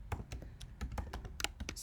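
Rapid, close clatter of keys being typed on a computer keyboard, an irregular burst of clicks and taps with no talking.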